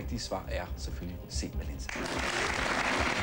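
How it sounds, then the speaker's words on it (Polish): A Polish TV game show promo opens with someone speaking over a low music bed, then loud, dense audience applause takes over and holds steady to the end. "Oklaski, oklaski, oklaski."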